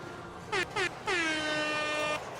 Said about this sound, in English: That was an air horn for me.